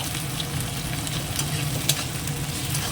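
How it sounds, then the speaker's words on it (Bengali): Onion, garlic paste, ginger paste and tomato fry in oil in a pan for a meatless kofta curry, giving a steady, close, continuous sizzle with no talking. "আর এটা একটুখানি আগে ভাজা ভাজা হয়ে যাক"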